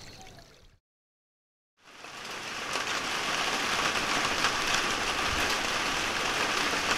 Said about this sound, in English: It has been raining since the early hours of this morning. And it is still going.